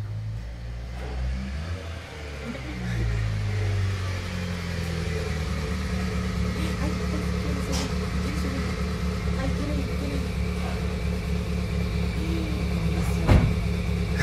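An approaching car is heard as a steady engine rumble and tire noise that draws nearer and holds close for a long stretch, with occasional voices faintly underneath.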